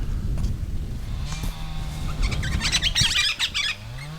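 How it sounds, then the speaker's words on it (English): Several birds chirp and tweet outdoors in quick overlapping calls, fairly close, with a low animal bleat and some background noise underneath. "I have a lot of parrots and just a lot of birds in general around here"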